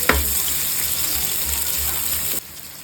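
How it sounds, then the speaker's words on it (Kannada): Onion and curry leaves fry in hot oil in a pan, a steady close sizzle with gushing, watery crackle that holds evenly for over two seconds, then drops abruptly to a quieter hiss. "ಒಂದು ಪ್ಯಾನ್ಗೆ ಎಣ್ಣೆ ಹಾಕಿ ಬಿಸಿಯಾದ ನಂತರ ಕರಿಬೇವು ಸೊಪ್ಪು ಹಾಕಿ, ಆಮೇಲೆ ಸಣ್ಣದಾಗಿ ಹಚ್ಚಿದ 1 ಈರುಳ್ಳಿಯನ್ನು ಹಾಕಬೇಕು. ಆಮೇಲೆ ಸ್ವಲ್ಪ ಫ್ರೈ ಮಾಡಿ"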